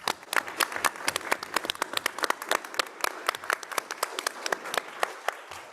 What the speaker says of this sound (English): just another round of applause for our winners and for Miss Brazil and all her hard work with the science fair